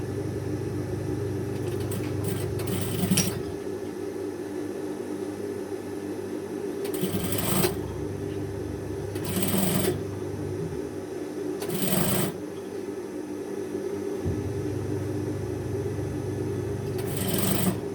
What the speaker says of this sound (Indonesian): selanjutnya tinggal kita jahit tindas aja si bagian mansetnya ini keliling ya, jahit tindas keliling